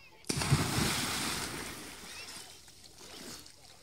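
Someone jumps into a village canal in Pakistan, a sudden sharp splash followed by churning water that fades over a few seconds, moderately close.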